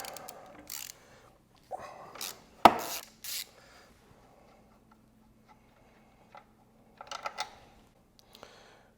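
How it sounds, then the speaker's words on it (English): A bolt comes out of an Aprilia Tuareg motorcycle in a quiet workshop, with a few sharp metallic clicks and ratcheting ticks, one louder clank, then scattered light taps after a pause. "we're gonna take this bolt out."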